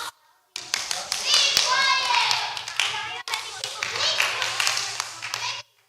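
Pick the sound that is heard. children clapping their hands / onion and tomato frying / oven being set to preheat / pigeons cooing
children clapping their hands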